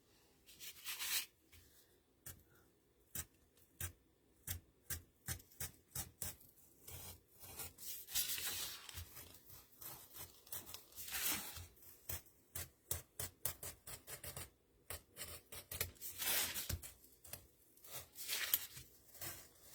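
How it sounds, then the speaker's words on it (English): A craft knife slices through cardboard along a drawn heart outline, giving repeated short, close scraping rasps in an irregular rhythm with brief pauses, fairly quiet and heard alone. "And then I'm going to use my craft knife to cut it out."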